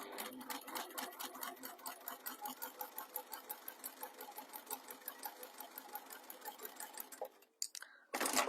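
A sewing machine stitches fabric in a fast, steady run of mechanical clicks close by, slowing and stopping near the end before a brief louder clatter.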